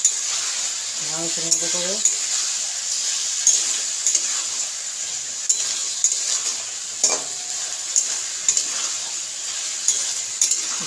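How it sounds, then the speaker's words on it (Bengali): Spice masala sautéing in a pan for a Bengali fish curry, with a steady sizzle and frying hiss throughout and regular light stirring clicks, plus a brief stretch of speech. "মশলাটি ভালো কষে নিচ্ছি"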